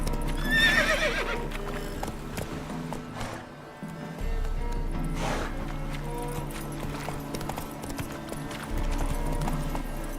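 Horse hooves clip-clop steadily in The Witcher 3, with loud neighs and whinnies near the start and again around the middle, set against ambient game sound.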